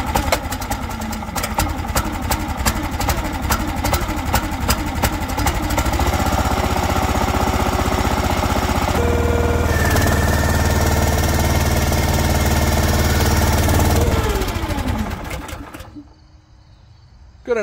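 A tractor engine runs loudly up close with a steady, chugging rumble, rising to a heavier drone midway, then dies away and cuts off near the end.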